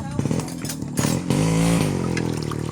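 A rider's motorbike engine putters close by with a rough, uneven idle and a short rev, while people talk nearby.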